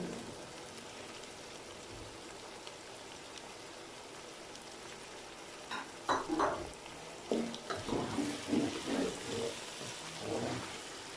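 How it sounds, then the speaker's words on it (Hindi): Frozen peas are tipped into a pan of potatoes and carrots cooking for a curry. A soft, steady sizzle comes first, then a few seconds of closer, louder rattling and clattering bursts, with no talking. "अब मैं इसमें मटर डाल दूंगा।"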